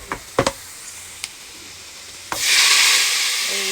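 Hot oil tempering with dried chilies, five-spice seeds, chopped onion and garlic poured over mixed vegetables: a few light clicks and knocks, then a sudden loud, close hissing burst of sizzle that holds to the end.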